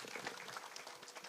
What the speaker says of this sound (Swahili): Haya, pigeni hao wote makofi.